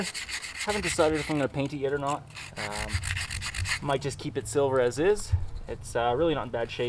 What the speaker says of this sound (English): I'm just gonna scuff it up with some sandpaper.